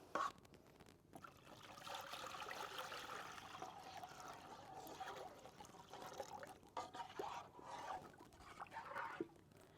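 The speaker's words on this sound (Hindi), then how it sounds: "अब इसमें मैं पानी शामिल करूँगी।" Water poured into a cooking pot for Multani sohan halwa in a village kitchen, a soft, faint trickling and splashing that continues unevenly throughout.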